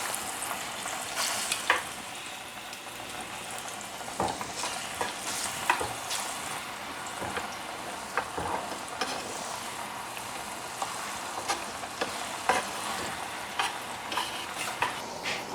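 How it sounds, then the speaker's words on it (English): Plantain frying in oil already used for dumplings, a steady crackling sizzle with frequent spatters and occasional utensil clicks, close and continuous with no talk. "I'm going to add my plantain into the same oil that I fry"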